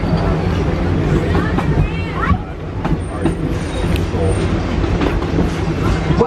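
The Wildlife Express train at Disney's Animal Kingdom rumbles along with a continuous rattling clatter and some faint squeals from its wheels, while people talk over the noise of the ride.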